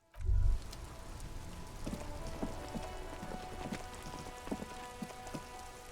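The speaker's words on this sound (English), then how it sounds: "It's raining again." Steady rain falls in the video game Disco Elysium, a soft continuous patter with scattered heavier drops and low ambient music, starting after a brief thump.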